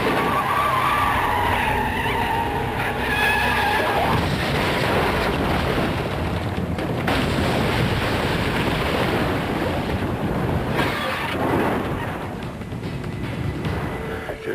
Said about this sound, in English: he hits him with his car at 60 miles an hour on a Porsche